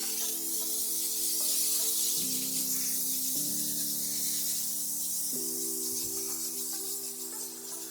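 Cleaner sprayed across a car engine bay, a steady close hiss of spray running continuously with a faint tonal hum underneath.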